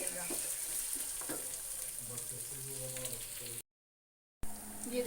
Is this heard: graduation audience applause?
no